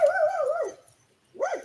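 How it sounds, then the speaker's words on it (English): Two dogs at home let out high, wavering whimpering yelps, a sustained whine followed by a short rising yip after a pause, close and fairly loud with no talk. "Both of my dogs just went, whoop."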